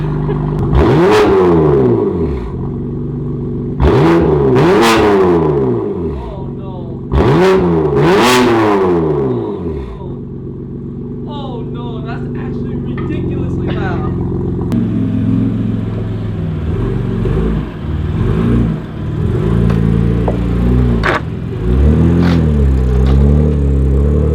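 BMW M3 engine with a loud aftermarket exhaust revved hard several times in a row, each rev rising to a loud snarling roar from the exhaust, then settling into a rumbling idle.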